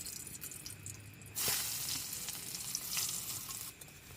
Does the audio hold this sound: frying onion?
yes